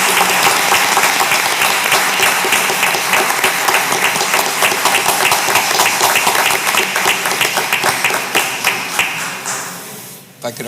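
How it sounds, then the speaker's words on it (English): Audience at a school board meeting gives a long round of applause, dense close clapping that thins into scattered claps and fades out at the end. "A big round of applause for La Joya High School, Mr. Estrada, and AP designee, Ms. Rebecca G"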